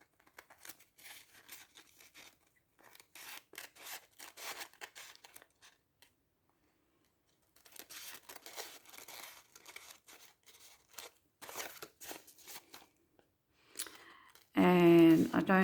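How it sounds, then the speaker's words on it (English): Scissors snip through dry tissue paper around an altered invoice for a junk journal card, giving short crinkly cutting bursts with brief pauses between them, fairly quiet, ending in a louder rustle. "I'm going to turn it over and just cut it around the invoice."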